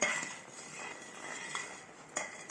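A spoon scrapes and clinks steadily against a pan of thickening suji halwa as it is stirred to keep it from sticking. The scraping is faint, with a couple of sharper clinks.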